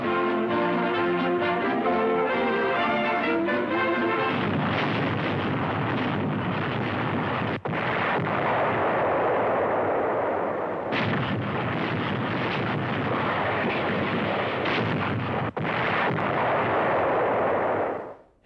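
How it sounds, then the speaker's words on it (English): World War II Allied artillery shelling and bombing of an old fortress under siege, a dense, sustained roar of distant blasts and rumble with wind noise, broken by a few sharp impacts, in old archival newsreel footage. "Heavy bombing and shelling finally ends the siege."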